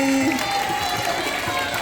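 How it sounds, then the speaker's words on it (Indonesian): An audience at a Maulid Nabi religious event claps in a dense, steady wash of applause. Crowd murmur and a tonal hum run underneath. "Tepuk tangan dong."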